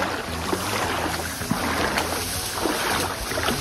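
A jet ski runs on the Nemunas river, giving a steady, loud engine drone mixed with rushing water and wind buffeting the microphone, with occasional bumps.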